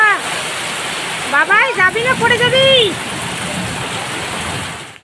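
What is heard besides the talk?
heavy rain falling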